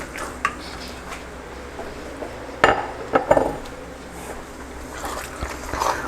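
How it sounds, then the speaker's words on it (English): Two pounds of crawfish tails drop into a metal pot, giving a few sharp clinks and clatters at the middle of the clip over a quiet background, with fainter rustling toward the end. "at this point, we're going to go ahead and add our crawfish tails"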